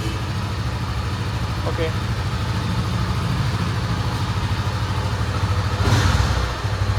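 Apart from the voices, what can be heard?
Honda CB300F motorcycle engine idling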